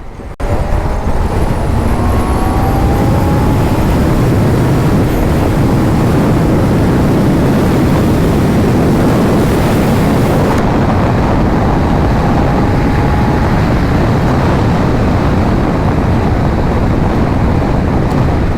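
A Honda CBF600 motorcycle accelerates hard to overtake, its engine roar blending with loud, steady wind rush for the whole stretch, with no talk over it.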